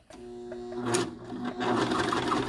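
Cover stitch sewing machine stitching fabric around in a circle, a close, loud motor whir that starts abruptly and runs steadily with rising mechanical chatter.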